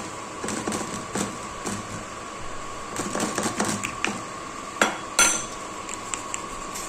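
A spoon handle stirs and breaks up a karanji filling mixture in a metal pot, giving repeated sharp clinks and scrapes in an irregular rhythm, close and fairly loud, with a couple of harder knocks near the end.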